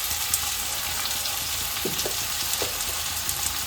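Chopped tomatoes tossed into softened onions sizzle and crackle steadily in a hot pan, a continuous hiss with a few small stirring scrapes, heard up close with no voices.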